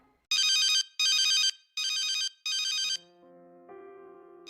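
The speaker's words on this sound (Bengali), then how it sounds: "ওস্তাদ রূপা ভাবি ফোন দিছে ফোনটা রিসিভ করে হেডফোনটা আমাকে দে" A mobile phone ringtone plays four loud, evenly spaced electronic bursts, then shifts into a quieter melodic tone, close up and with no voices.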